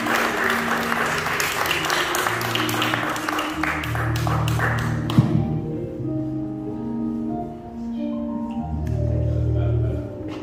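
A church congregation claps for a brother, with lively, even clapping for about five seconds over sustained keyboard chords that continue alone once the hands stop.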